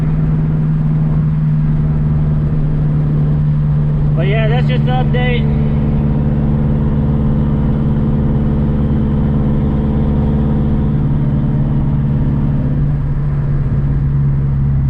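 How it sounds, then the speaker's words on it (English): A big-turbo Dodge Caliber SRT4 engine idles loudly and steadily throughout with a deep constant drone, while someone talks briefly over it. "Car's a little loud, I'm sorry."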